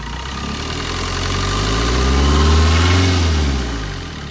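A 2015 Tata Zest XT Quadrajet 90PS diesel car engine starts and settles into a loud, close idle, its low rumble swelling briefly in the middle before easing off.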